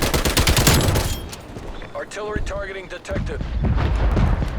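Call of Duty: Black Ops Cold War gunfire, with a TEC9 submachine gun among the weapons, rattles in rapid close bursts, then gives way to a player talking excitedly before more shooting returns.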